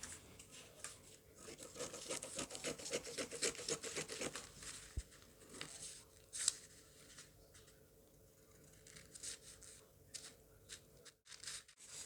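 Scissors snip and rustle through fabric while a wrap crop top is cut out, a quiet, close patter of cuts and rubbing that thins out toward the end.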